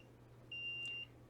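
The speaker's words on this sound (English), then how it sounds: "It makes a little tiny beep." A small infrared forehead thermometer gives a single soft, high, steady electronic beep of about half a second, faint over a low background hum in a quiet room.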